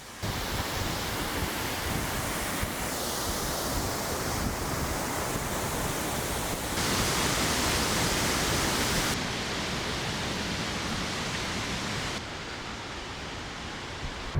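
Steady roar of a waterfall heard from up close, reached after climbing slippery rocks in BC's Interior, a dense, unbroken rush of water that fills the whole stretch with little variation and no voices.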